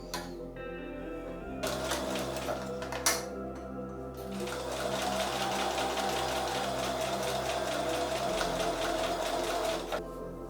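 A new sewing machine stitches in a steady, fast mechanical whir with rapid ticking, running nearly continuously for several seconds after a couple of brief starts, close and clear with no talk.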